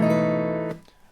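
A single acoustic guitar chord strummed across all strings rings out loud and close, then is muted sharply after about three quarters of a second, leaving a faint tail.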